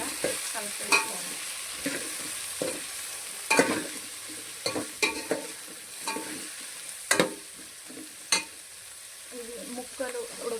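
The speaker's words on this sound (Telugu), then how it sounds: "ఒకసారి ఇలా కలిపేసుకోవాలి." Vegetables and green chillies for sambar being stirred in a pot, with a series of separate scraping, clinking strokes of the spoon over a soft background sizzle, close and fairly quiet.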